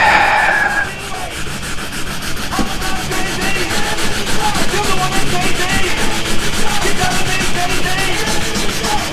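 Hard, steady wet sanding by hand with 320 grit on a scuffed Lexan Corvette targa top, a continuous rough rubbing with rhythmic back-and-forth strokes, close and loud, no talking.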